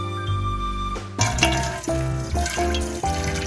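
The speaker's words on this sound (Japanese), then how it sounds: "デコボコも流水でよく洗います。" Morel mushrooms are washed under a running kitchen tap, water splashing and gurgling close by with a steady flow and a few shifts in pitch as the stream hits the mushrooms.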